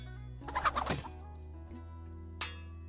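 Clucking chicken in the pirate game Pixel Piracy, a quick burst of several close clucks followed by a single short squawk over a low steady drone, with no talking.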